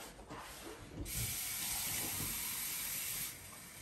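Hot water from a kitchen tap running onto a Römertopf clay pot, a steady hissing spray that starts abruptly after a second of quieter handling, holds evenly, then cuts back near the end.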